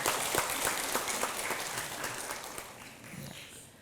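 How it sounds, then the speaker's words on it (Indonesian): Studio audience applause for TVRI Sulawesi Tenggara during a broadcast panel program, a steady wash of many hands clapping that holds for several seconds and gradually thins toward the end. "Beri tepuk tangan untuk TVRI Sulawesi Tenggara"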